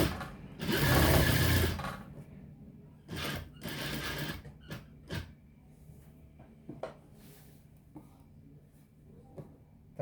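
A sewing machine stitches a seam on an Arabian-style burqa, rattling in a loud burst near the start and then in shorter runs with soft clicks and pauses, close by and with no talking.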